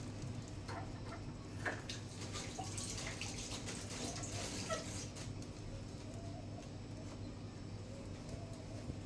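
A kitchen tap runs quietly as someone washes their hands, giving a soft, continuous splashing hiss throughout. Faint background sounds sit underneath it.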